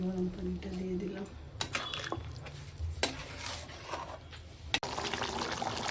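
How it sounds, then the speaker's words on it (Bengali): Hot water poured into a chicken curry, making a close pour and splash with clinks of utensils against the pot and some stirring, while a voice talks over it. "গরম পানিটা দিয়ে দিলাম"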